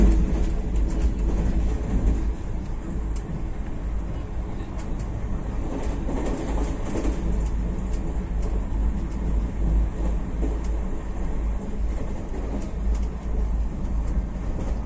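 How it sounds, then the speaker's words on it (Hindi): Geetanjali Express on the Tatanagar–Howrah main line near Kharsawan Junction, running at about 120 km/h, with a steady loud rumble and clatter of wheels on rail throughout, no talk. "Running at maximum permissible sectional speed of 120 km/h."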